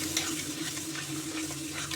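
Garlic, onion, chili and spice paste with tomato, ginger, cumin and coriander stir-fried in a pan, a steady close sizzle with scraping spoon strokes running continuously, no voices.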